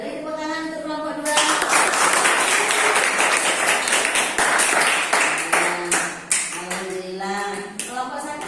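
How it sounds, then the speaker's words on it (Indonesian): Classroom of students clapping for a presenting group after a maths lesson on exponents, a dense burst of hand claps that swells loudly and tapers off, with a teacher's voice talking over the start and end. "Beri tepuk tangan untuk kelompok 2."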